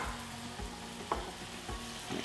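Raw prawns drop into a hot pan and sizzle, a close, steady frying hiss broken by a few low knocks and stirring bumps.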